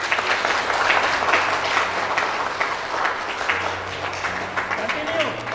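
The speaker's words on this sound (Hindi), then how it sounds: "ताली बजाओ" Guests clap steadily at a church wedding at Bondomunda Parish, a sustained ripple of many hands with voices talking underneath and some background music tones.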